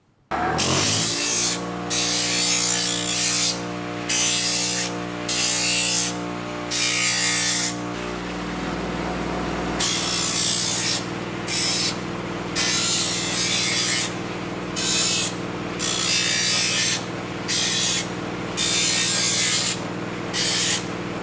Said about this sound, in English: I'm going to take these over to my grinder and just fair off the edges so there's nothing rough left over from the cutting